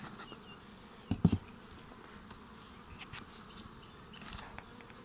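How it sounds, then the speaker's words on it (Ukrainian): Bees buzzing at a hive kept on a two-queen system, a low, steady drone, fairly quiet, with a couple of louder close passes breaking through. "І ще дуже багато зараз бджоли літає, носить пилок"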